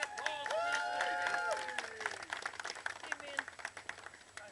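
Audience clapping at a pirate magic show at Avalon Faire, starting as a sustained round of applause that thins into scattered claps, while a voice and whistling tones sound over it.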